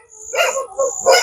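Dogs bark three times in quick succession, nearby and fairly loud, with no other sound between the barks.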